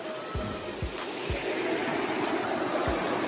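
Strong currents in a rocky countryside stream roar steadily, a dense, close rush of water with a few low thumps scattered through it.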